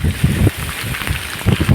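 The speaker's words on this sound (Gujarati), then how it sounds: "ફૂલ પવન આવે છે" Strong wind buffets the microphone in continuous rumbling gusts during heavy rain in Jamnagar, Gujarat, a loud low roar with no voices.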